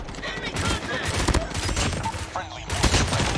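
Rapid bursts of gunfire from a Renetti burst pistol in a video game, loud and repeated close up, with a voice talking over them.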